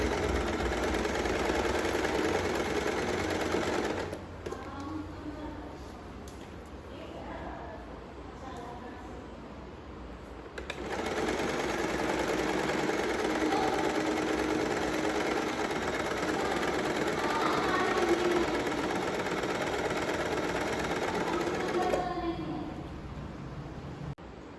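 A sewing machine stitching a suit, its fast mechanical whir running in two long bursts with a short pause between, close and steady, with no talk over it.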